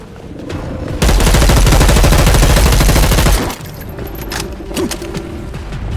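Gunfire in the video game Dead Island 2 erupts as a loud, dense burst of rapid automatic shots lasting a couple of seconds, then drops away to quieter scattered clicks and game sounds.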